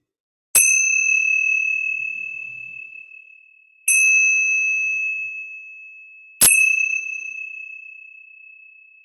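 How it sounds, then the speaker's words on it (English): A bright meditation bell is struck three times at slow, even intervals, each stroke ringing out clearly and fading gradually into silence. "as I ring the bell"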